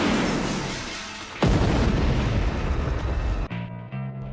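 A crashed motorcycle and a getaway car explode during a chase: a steady rumble suddenly erupts into a loud, roaring blast that stays dense and powerful for a couple of seconds before cutting off into quieter tones.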